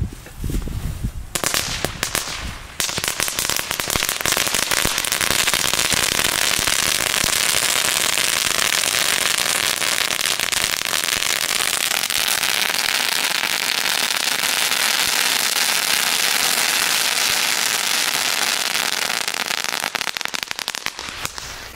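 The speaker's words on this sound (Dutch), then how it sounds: "Nee, dit is wel goed vuurwerk, man, van de Lidl." Strings of firecrackers bought from Lidl go off in a dense, loud, unbroken crackle of rapid pops for nearly twenty seconds, starting abruptly after a brief quiet moment.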